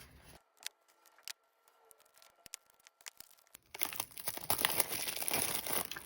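Shrink wrap is torn and peeled off a tarot card deck, starting with a few soft, scattered crinkles and clicks, then building into close, dense crackling and crumpling of plastic.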